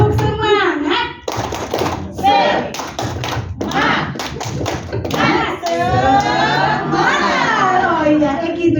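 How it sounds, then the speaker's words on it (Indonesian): Rhythmic group hand clapping from an audience at a teacher and supervisor training session, bursts of patterned claps with children and adults speaking in between. "Ayo, Zara, RA, tepuk semangat."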